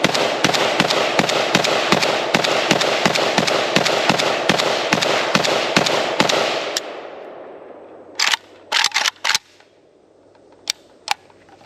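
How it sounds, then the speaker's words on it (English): A Russian Legion AKM rifle fires a fast burst of sharp, loud shots in an even rhythm that stops abruptly, followed after a short gap by a few scattered single reports and clicks. "let's test out all the mags in the Russian Legion AKM."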